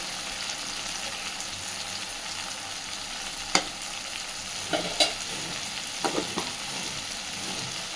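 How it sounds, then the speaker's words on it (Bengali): Spice paste frying in a pan for a potato dum curry after chili powder goes in, a constant low sizzle with a few sharp spoon scrapes and clinks in the middle, close and unaccompanied by talk. "আবারও একটুখানি জল দিয়ে মশলাটা কষতে থাকবো"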